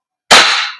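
A single sharp, loud crack of an Umarex HK416D Gen 3 airsoft gas blowback rifle by VFC fired on semi-auto, a snappy close report with a quick decaying tail and nothing else around it.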